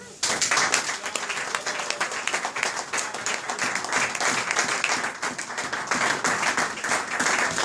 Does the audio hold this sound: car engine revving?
no